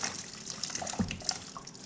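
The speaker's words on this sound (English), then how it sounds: "Now, rinse our lid off with a bit of hot water." Hot water splashes and trickles over a fermenter lid being rinsed, close up, in short dripping bursts.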